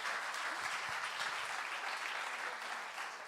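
An audience at a talk on creativity, influencers and video applauds in a steady, fairly faint wash of clapping, with a few louder nearby claps early on.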